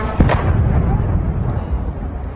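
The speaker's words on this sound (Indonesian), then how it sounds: "dentuman keras akibat serangan rudal dan drone Iran yang menghantam pangkalan militer Amerika Serikat di Erbil" Heavy blast from an Iranian missile and drone strike on a US military base in Erbil, Iraq: a sharp loud boom followed by a rumbling low roar that fills the remaining seconds.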